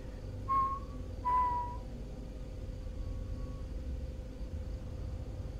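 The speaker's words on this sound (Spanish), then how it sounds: "Alguien está chiflando" Two short whistled notes close together near the start of a quiet horror game scene, a faint third note following later, over a steady low background hum.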